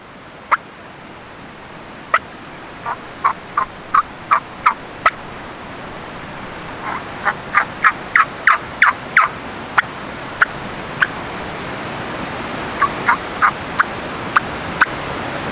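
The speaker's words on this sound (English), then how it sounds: "We want that turkey to gobble now." A wild turkey gobbles outdoors during a turkey hunt in a quick string of sharp, repeated calls that come in bursts, clear and fairly close over a quiet background, with no voices.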